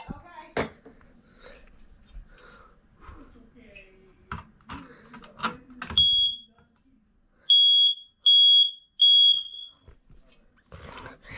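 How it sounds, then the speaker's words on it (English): Smoke alarm in a home system test gives several loud, piercing beeps in a regular series. Before them come quiet speech and handling sounds in a room. "This will be smoke alarm in the spare room."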